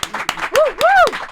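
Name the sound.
audience applause welcoming podcast guests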